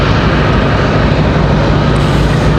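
Delta CRJ regional jet departing from Raleigh Durham International, a steady broadband engine roar holding at constant loudness throughout, close and loud with no talk.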